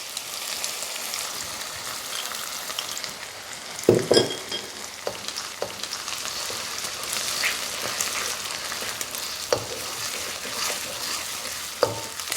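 Egg frying in a hot pan for takeaway-style fried rice, a continuous crackling sizzle with occasional sharper scrapes and clatters as it is stirred, close and steady with no talk.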